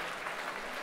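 A football crowd at a KFC Uerdingen versus VfR Fischeln match applauds a substituted player leaving the pitch, a steady, moderately distant clapping for under a second.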